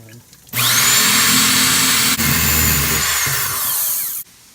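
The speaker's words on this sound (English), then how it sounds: "so that we can drill the hole for the leads" A power drill whirs loudly and steadily for about four seconds, with a brief dip midway, then cuts off abruptly.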